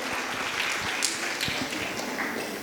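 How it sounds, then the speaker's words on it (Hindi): Audience clapping loudly at a Navratri festival honour ceremony, a dense steady applause throughout. "एक बार जोरदार तालियों से माता रानी का स्वागत करेंगे।"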